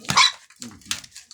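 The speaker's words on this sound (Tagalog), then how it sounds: "Makulit talaga itong aso na to." A dog barks sharply and close by, one loud bark followed by two softer yelps, short and clipped over about a second, with no talk.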